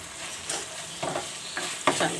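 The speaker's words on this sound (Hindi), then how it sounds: "अब इसको हम आलूओं को और मसाले को अच्छी तरीके से भूनेंगे" Boiled, hand-mashed potato chunks with spices sizzle softly in a pan and are stirred, giving a steady fry with a few scraping strokes. No one talks.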